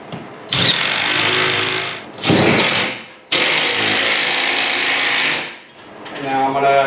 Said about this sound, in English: I got my lag bolt, my impact driver with the 1/2 inch socket on there.